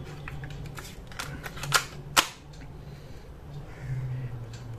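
Sony TCM-200 portable cassette player being started for playback: two sharp mechanical clicks from the buttons and transport close at hand, followed by a faint steady motor hum, with no talking.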